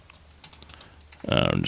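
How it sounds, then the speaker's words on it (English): Keyboard typing, a quick run of clicky keystrokes close by, starting quiet and then a dense loud burst near the end. "I'm just typing some of that."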